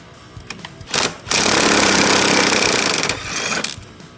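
An impact wrench hammers close and loud in one sustained burst of about two seconds, pushing out suspension bushings, with a few short trigger taps before and after.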